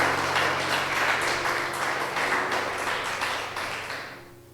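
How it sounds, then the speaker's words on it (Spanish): A church congregation claps together in a loud, steady rhythmic beat, the claps filling the room for a few seconds before fading away. "Dale un aplauso al Señor si usted sabe que es así."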